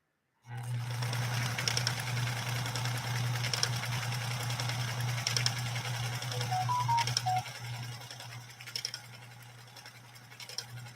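A Pfaff 130-6 sewing machine stitches 100% cotton, its steady motor hum running continuously and close, with faint clicking, slowing slightly near the end.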